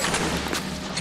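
A shotgun blast in the crime game L.A. Noire, one loud broadband burst filling the whole second with dense, sustained crackle rather than a clean single report.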